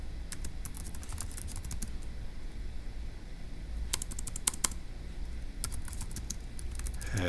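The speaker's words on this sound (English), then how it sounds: "let's go ahead and type that up in our notes" Typing notes on a computer keyboard while working a daily Turing Machine logic puzzle: a steady run of light, quick key clicks with a few louder taps, close and alone over a faint background hum.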